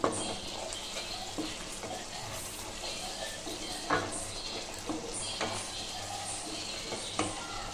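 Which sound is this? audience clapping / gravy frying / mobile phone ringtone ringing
gravy frying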